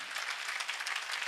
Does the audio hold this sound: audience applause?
yes